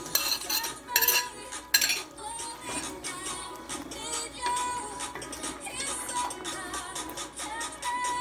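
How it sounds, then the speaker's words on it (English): Carrots and Irish potatoes going into a pot of Jamaican curry chicken, with repeated close metallic clinks and scrapes of a spoon against the pot, steady and busy throughout. "I'm gonna put in my carrots and my Irish"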